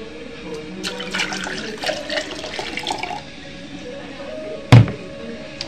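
Tap water poured from a measuring cup into a shaker ball, a close splashing pour that fades out over a few seconds, followed by a sharp knock or clunk near the end.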